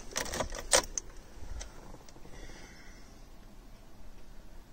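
Car keys jangle in a close burst of bright metallic clinks during the first second, handled while starting an Audi TT, followed by quiet room tone.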